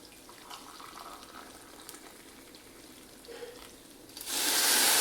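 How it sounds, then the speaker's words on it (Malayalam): In a kitchen, water is poured into a pot of rice for biryani; quiet clinks and stirring come first, then a loud, steady rush of water closes the clip. "ഒരു ഗ്ലാസ് അരിക്ക് ഒന്നര ഗ്ലാസ് വെള്ളം വെച്ച് ഞാൻ ഒഴിച്ചു കൊടുക്കും"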